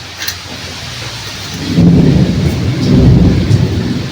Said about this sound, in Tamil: இடியும் வருது.